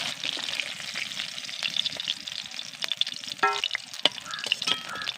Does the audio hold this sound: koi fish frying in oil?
yes